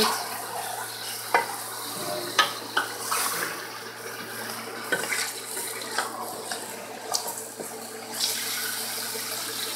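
Chicken fries in a pan for a degi chicken masala, a steady, close sizzle broken by occasional clacks of stirring, with no one talking.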